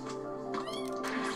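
Kittens in the game Golden Force let out short, bright meows over game music, several cries in quick succession.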